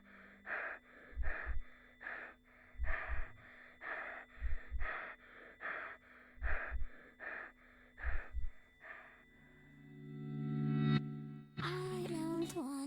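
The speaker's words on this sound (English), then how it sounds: "What we just heard was the sound of someone knocking on a door, followed by panicked breathing" Paired low knocks on a door repeat steadily over heavy, panicked gasping breaths, then the breathing grows ragged and distorted before a harsh burst of noise at the end.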